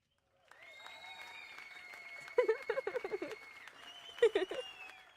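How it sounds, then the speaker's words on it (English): Soft, light clapping mixed with gentle cheering, coming in two short bursts over a thin whistling tone. "I have a clapping sound bit, but it's a soft clap. It's like a soft clap / cheer."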